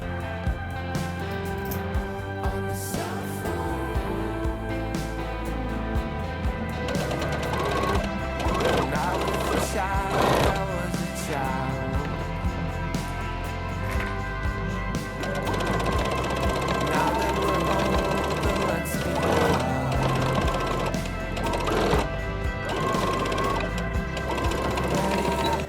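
A sewing machine top stitches around the back neck of a T-shirt in straight stitch, a close, fast mechanical whir running in bursts with brief pauses, clicks and rattles between runs.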